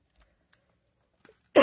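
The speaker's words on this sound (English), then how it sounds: "Sorry for the cough." A single short, close cough bursts out at the end after near silence, preceded by a few faint clicks and small mouth sounds.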